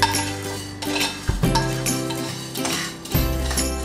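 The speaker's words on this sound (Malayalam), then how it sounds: "നമുക്കിനി ഇതിലേക്ക് കടലപ്പരിപ്പിട്ട് കൊടുക്കാം. ഉഴുന്നുപരിപ്പ്" Chana dal and urad dal tipped into a hot pan of coriander seeds, giving scraping stirs, clinks of utensil on metal and light rattling of dry lentils and seeds, with sharper thumps near the middle and end.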